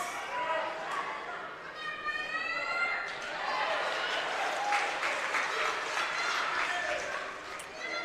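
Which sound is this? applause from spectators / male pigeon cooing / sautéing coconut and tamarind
applause from spectators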